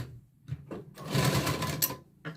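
A sewing machine stitches a katori blouse in short bursts, a few quick starts followed by a longer steady run of close, clattering needle rhythm, with no talk over it.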